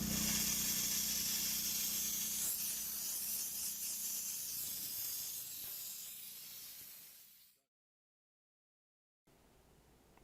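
Vapor Rhino steam cleaner nozzle blasting steam onto a car headliner gives a loud, steady hiss that gradually fades, stops for a moment of silence, then resumes faintly at the end.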